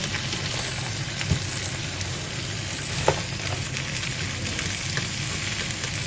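Crabs sizzle in a pan as they stir-fry, a steady hissing crackle at moderate level broken by a couple of brief knocks from stirring.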